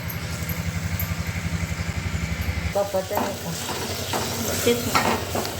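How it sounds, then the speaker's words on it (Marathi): Gram flour mixture stirred in oil with a rolling pin starts with a rhythmic rapid scraping beat, then gives way to a sizzling, clattering texture of stirring in the pan. "हे बेसन पीठ टाकून आई लाटण्याने ढवळून घेत आहे"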